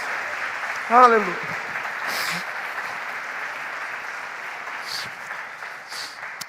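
A church congregation applauds in a steady wash of hand claps under a sermon, with a voice calling out briefly over the clapping.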